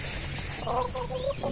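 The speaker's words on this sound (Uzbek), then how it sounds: "Bu xo'roz qanaqa xo'roz bu boshqacha ayvat" Short burst of soft clucking from a large, tall-combed rooster, a few close, throaty notes over faint farmyard background.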